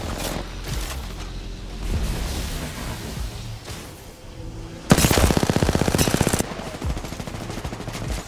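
Sustained SMG gunfire in Apex Legends, a loud rapid burst of closely spaced shots lasting about a second and a half, followed by quieter scattered shots and game effects.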